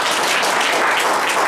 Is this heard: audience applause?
yes